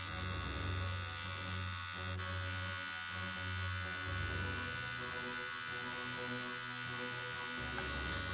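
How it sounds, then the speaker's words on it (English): A Cronier CR-9270 trimmer runs at its first speed, a steady low electric hum with faint whining overtones, close and unbroken, with no talking. "So I am measuring the first speed of this trimmer."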